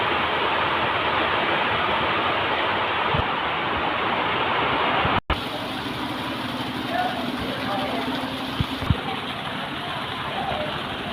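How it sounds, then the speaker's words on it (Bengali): A dense, steady roar of torrential monsoon rain pours down without letup over the haor wetlands of Sunamganj, loud and close, with only a momentary break partway through. "আহ বৃষ্টির কি গতি মুসলধারে বৃষ্টি"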